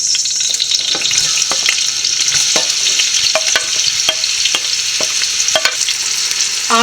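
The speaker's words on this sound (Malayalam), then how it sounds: "പാനിൽ കുറച്ച് എണ്ണയും കുറച്ച് നെയ്യും ഒഴിച്ചിട്ടുണ്ട്. നല്ലപോലെ ചൂടായതിന് ശേഷം നമുക്ക് സവോള വഴറ്റിയെടുക്കാം." Sliced onions sautéing in hot oil and ghee in a pan for egg biryani, a loud continuous sizzle broken by repeated scraping stirs of a spoon, close up with no talking.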